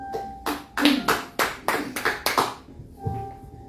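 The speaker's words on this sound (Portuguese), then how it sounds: "Aplauda," About eight distinct hand claps in a steady rhythm, fairly close and loud, during a church worship service, with a faint hum underneath and a low voice stirring at the end.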